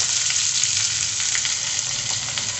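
Pointed gourd (parwal) sizzles steadily in a hot pan with garlic, a dense, even frying hiss that holds at close range for the whole stretch with no talk over it.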